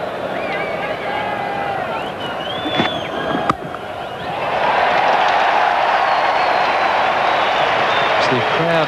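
Crowd noise at a Perth cricket match between Australia and Pakistan, a steady roar that swells louder and more excited partway through, with a commentator talking over it.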